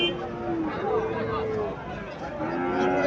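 A Sahiwal bull calf lows at a cattle market in Chandimura, Cumilla, with drawn-out moos rising over steady crowd babble and nearby talk.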